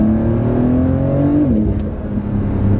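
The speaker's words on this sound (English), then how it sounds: "Now the sound is really nice of the car." A 2020 Porsche 911 of the 992 generation revs steadily while driving, its engine note climbing, then dropping on a quick shift before pulling on again, loud and close from inside the car.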